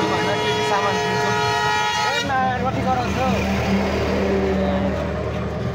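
A vehicle horn sounds on a road in Itahari on the way to Jhumka, with steady sustained honking for about two seconds before giving way to traffic rumble and a voice.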